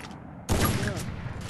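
Gunfire in a video game shooter: a sudden loud burst of shots breaks out partway through and keeps going as rapid, crackling fire with a reverberant tail. No voices are heard.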